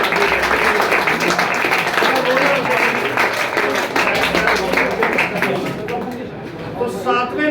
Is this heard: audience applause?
yes